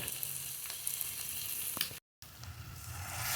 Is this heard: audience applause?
no